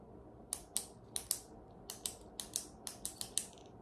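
A pen clicked repeatedly and fairly fast, about a dozen crisp, close mechanical clicks in an uneven rhythm against a quiet room, with no talking.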